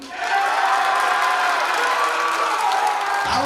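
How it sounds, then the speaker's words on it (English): A crowd at a school assembly cheers and claps loudly for contestant number 2, a dense burst of applause mixed with shouts and whoops that swells quickly and holds steady. "That one's got the loudest cheer."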